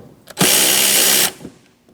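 A power tool fitted with a 15mm socket whirs in one loud burst of just under a second, spinning off the wiper arm mounting nut on a 2003-2007 Cadillac CTS, with faint clicks before and after.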